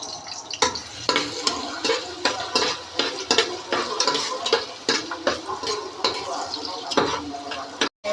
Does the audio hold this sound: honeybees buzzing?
no